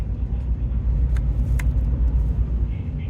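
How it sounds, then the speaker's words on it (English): A low, steady engine rumble fills the cabin of route 19, a coach bus riding between Longueuil and Montmorency in Montreal. It drones continuously with faint road noise and no talking. "The 19 is a coach bus."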